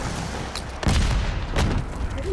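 Call of Duty multiplayer gunfire: a steady wash of shooting with heavier impact bursts punching through at intervals, close and loud, with no clear talking over it.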